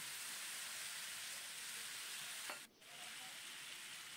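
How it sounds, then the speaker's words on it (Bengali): Steady, close sizzling from a hot pan, with a brief hissing surge and a momentary drop as tamarind pulp is poured in partway through. "তেঁতুলের যে পাল্পটা ছিল সেটা কড়াইতে ঢেলে দিলাম"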